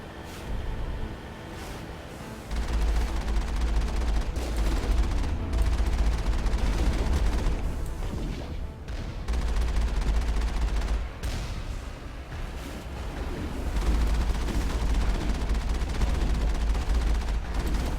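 Heavy gunfire from a firefight in the video game Mass Effect: dense, sustained volleys with booming bursts that surge and ease in waves, loud and close throughout.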